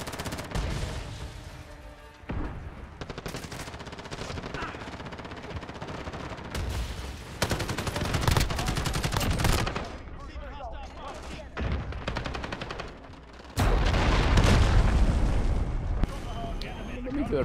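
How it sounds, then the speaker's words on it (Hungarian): Call of Duty: Modern Warfare multiplayer combat with a grenade explosion and bursts of gunfire, loud crackling shots and booming blasts in irregular clusters, one heavy blast near the end. "Mitől robbantam fel, csak nem a saját gránátomtól"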